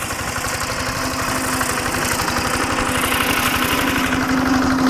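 Agricultural machine engine running on a farm field, a loud, steady, close rumble with a fast regular pulsing throb throughout and no speech.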